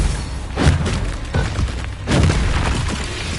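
Bombarda spell in the video game Hogwarts Legacy bursts with heavy booming thuds and crumbling debris, two big blasts over a rumbling game background with no talk.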